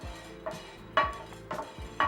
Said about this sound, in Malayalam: ഒന്ന് ഇളക്കി ചൂടാക്കണം